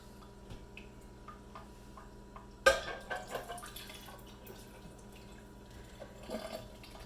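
Apples and maple syrup are tipped into a mixing bowl, giving a soft wet plop followed by a few quieter squelchy dribbles, close up against low background noise.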